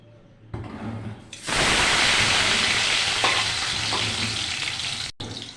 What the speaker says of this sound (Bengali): ভালো করে তেলটা গরম করে নেব। প্রথমে দিয়ে দিচ্ছি টমেটো